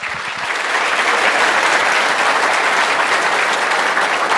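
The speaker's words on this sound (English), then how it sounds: "Please give them a warm round of applause." An audience at a conference claps for the speakers, a dense, loud, sustained round of applause that swells in after a brief start and holds steady.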